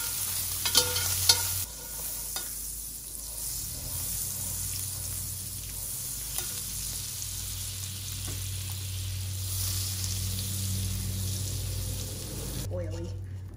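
A seafood gumbo roux is stirred steadily in a pot with a continuous soft scraping and sizzling, close by under a constant hum, with a few clinks near the start.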